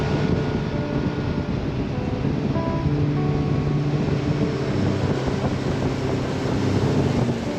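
A steady engine drone and rushing water surround a moving fishing boat in New England, with wind buffeting the microphone throughout.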